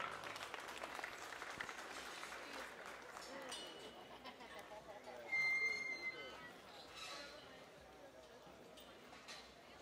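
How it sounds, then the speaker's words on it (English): Audience applause for exhibitors at a junior gilt (young female pig) show ring, a steady, broad patter of clapping from a crowd, with a brief brighter tone partway through and voices under it. "Let's give all those exhibitors a nice round of applause"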